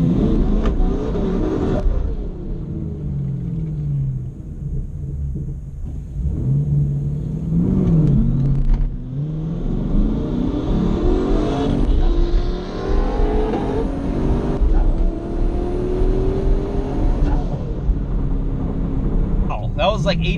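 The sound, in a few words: turbocharged Camaro 1LE drag racing a 2010 Grand Sport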